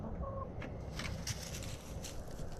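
Garden chickens clucking quietly, soft scattered fowl calls against low, steady outdoor background noise.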